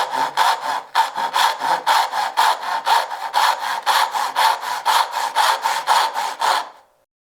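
A hand saw cuts a dovetail in wood, working down to depth in brisk, evenly spaced strokes. Roughly twenty close, loud rasps follow one another without pause, then the sawing stops cleanly.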